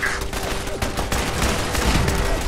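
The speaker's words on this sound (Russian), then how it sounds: "Делаем так, турель с пулеметом." A machine gun turret in Fallout 4 fires rapid sustained bursts, loud and close, a dense continuous rattle of shots with no pauses.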